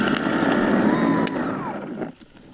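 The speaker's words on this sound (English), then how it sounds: "it was the only battery electric scarifier aerator that I could find" MTD Optima 38 battery electric scarifier aerator running on a lawn, a loud, dense mechanical whirring with raking tines clattering, steady before dropping off quickly near the end.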